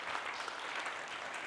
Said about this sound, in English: get a round of applause for the speakers so far this morning